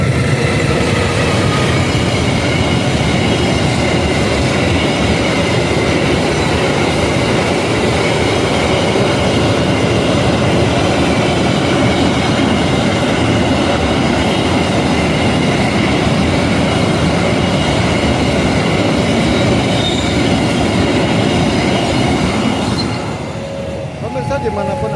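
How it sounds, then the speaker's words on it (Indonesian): A train rumbles past close by in Pagiyanten, Adiwerna, Tegal, a loud, steady roar of wheels and rail clatter lasting throughout before easing off at the end. "Ini ada kereta api yang sedang lewat."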